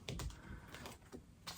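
A pre-shuffled tarot deck being shuffled again by hand, quiet clustered card flicks and taps coming in a few short bursts, close and faint, with no voices.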